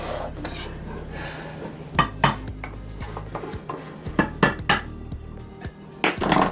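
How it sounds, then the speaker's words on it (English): A can of evaporated milk being opened in a home kitchen, a series of sharp metallic clanks and taps with irregular rhythm, close and fairly loud, alone without talk. "Getting ready to open up my canned milk."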